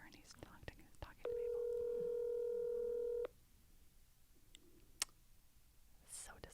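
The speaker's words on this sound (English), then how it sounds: "That's too many rings for it to not go to voicemail." A ringback tone on an outgoing phone call sounds as one long, steady electronic ring of about two seconds, loud and clear over faint room noise, followed by quieter clicks and a brief rustle.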